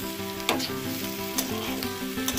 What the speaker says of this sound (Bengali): সবশেষে টমেটোটা দিয়ে দিচ্ছি।